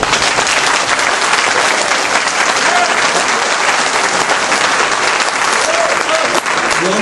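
Loud, dense audience applause fills a Republican debate hall for Florida's 20th congressional district, a steady wash of many hands clapping at close range without letting up.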